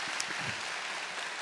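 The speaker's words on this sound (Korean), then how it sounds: "우리 박수로 격려해 주시기 바랍니다." A church congregation claps briefly and steadily during a Korean closing worship service at a summer revival gathering.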